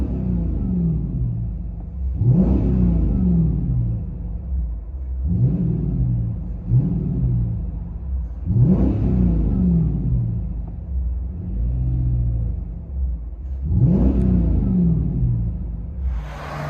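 A 2020 Dodge Charger R/T with a 5.7L HEMI V8 and Borla ATAK cat-back exhaust with resonator delete revs repeatedly over a deep idle, four or five sharp throttle blips rising and falling, loud and close.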